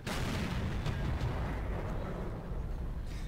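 Tank gunfire in the game World of Tanks, fired from a Jagdtiger tank destroyer with an 8.8 cm Pak 43 gun, heard as a dense, continuous booming rumble of battle noise without clear separate shots.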